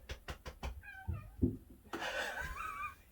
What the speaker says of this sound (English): I have no idea whose cat this is.